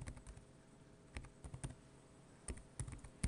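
Keys clatter in quick irregular bursts as a web address is typed on a computer keyboard, close and fairly quiet, with no speech.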